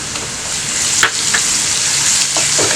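Onions with ginger garlic paste fry loudly in a pan for mutton biryani, a close, constant sizzle broken by a few stirring scrapes.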